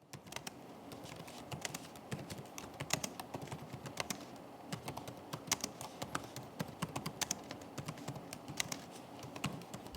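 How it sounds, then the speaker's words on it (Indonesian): Steady, rapid clicking of typing on the soft membrane keyboard of an HP 14S-DK1524AU laptop, keys pattering continuously and close by with no voices. "berikut ini Pical coba kasih nih contoh suara feedback dari keyboard HP 14S"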